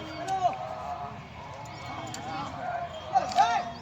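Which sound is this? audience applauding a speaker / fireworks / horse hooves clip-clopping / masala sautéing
horse hooves clip-clopping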